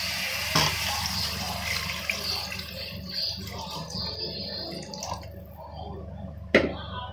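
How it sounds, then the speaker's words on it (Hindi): Water is poured into cooked, oil-separated masala in a pan for a dal pakoda curry, making a steady splashing pour for several seconds that ends with a sharp clink. "तो अभी इसमें मैं पानी डाल दूंगी।"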